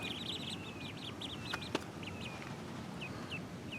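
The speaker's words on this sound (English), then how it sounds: "the baby ducks that we just got" Many high, rapid peeps from a group of ducklings, chirping in quick bursts over a steady low background hum, with a couple of faint knocks.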